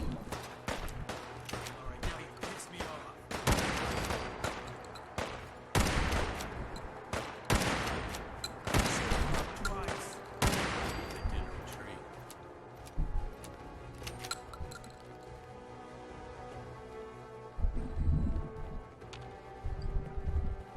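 The player's gun in Fallout 4 fires a series of loud, sharp shots at a tough super mutant, several cracks clustered early, then fewer and sparser later, over ambient game noise and some speech.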